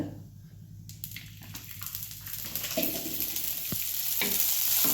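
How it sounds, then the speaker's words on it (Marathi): Sprouted moth beans roasting in oil in a pan, a soft sizzle with scraping stir sounds that builds louder toward the end, close with no talking. "तेल ओतून भाजूया चांगली भाजते मटकी"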